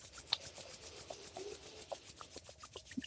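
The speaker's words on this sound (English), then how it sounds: "Rub your hands." Palms being rubbed together during a guided morning practice, a soft, close, dry brushing friction with small rhythmic strokes, fairly quiet and with no talk.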